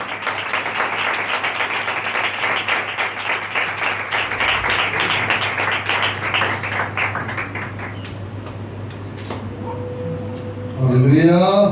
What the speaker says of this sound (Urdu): بھرپور تالیوں کے ساتھ.